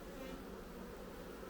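Honeybees hum in a dense, steady drone close around an opened hive during a brief moment.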